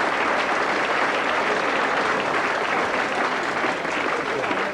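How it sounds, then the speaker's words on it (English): Comedy club audience claps steadily for the whole stretch, a dense, loud wash of applause from a crowded room. "if you want to clap for shit like that"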